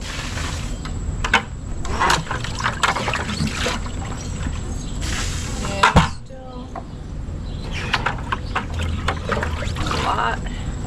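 Water runs steadily into a cheap inflatable pool from Amazon, a continuous splashing rush with a few sharper knocks and brief voices.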